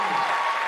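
Brief burst of dense clapping from an audience at a university alumnus lecture, a steady wash of many hands heard alone.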